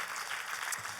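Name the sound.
church congregation applauding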